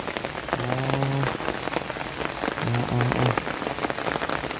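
Steady rain patters across a surface throughout, a dense hiss of drops, with a couple of brief tonal voice-like sounds rising above it.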